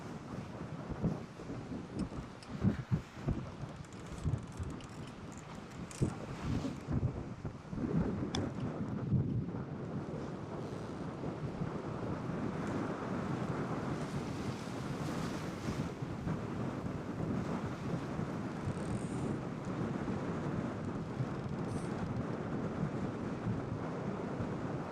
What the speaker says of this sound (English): We're sitting right at about between 32 and 35 knots of sustained winds here in the anchorage